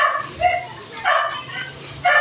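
Several dogs bark and yip in short bursts at a moderate distance, about four barks spread across the moment, heard over a low steady background hum.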